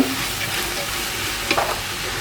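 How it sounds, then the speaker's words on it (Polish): Onions and vegetables sizzle loudly in a pot while a utensil stirs and scrapes through them from the bottom, with a brief clatter near the end. "trzeba to teraz od dna porządnie zamieszać, żeby nam się ta cebula nie spaliła"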